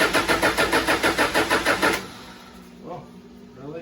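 A Toyota 1PZ diesel engine cold-starts with about two seconds of loud, rhythmic cranking, then catches and settles into a quieter, rough running note as a voice speaks faintly nearby.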